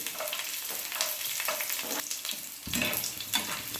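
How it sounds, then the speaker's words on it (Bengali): Garlic sizzles in hot mustard oil on a tawa with a constant close hiss, swelling louder near the end as the pieces hit the oil and a spatula scrapes through. "তেল গরম হয়ে এসছে এবার প্রথমে আমি রসুন দিয়ে দেবো"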